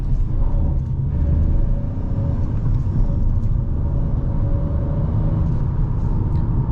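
A 2021 Citroen C3 Shine with the 1.2 PureTech engine speeds up on a night drive, heard from inside as a steady low engine drone and road rumble that stays loud and constant.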